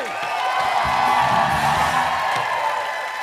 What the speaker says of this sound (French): On applaudit Sébastien!